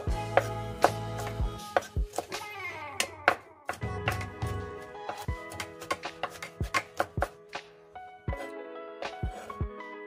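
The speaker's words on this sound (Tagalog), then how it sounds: "Nasa inyo guys kung paano nyo i-chop yung bawang." Garlic chopped with a knife on a cutting board: sharp, close knife strikes in an irregular rhythm, some in quick bursts and others spaced apart, with no talking.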